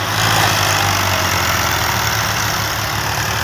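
Three tractors, one pushing from behind and two pulling from the front, work to free a stuck vehicle: a loud, steady diesel drone with a low rumbling idle-like throb, continuous and close, with no one speaking.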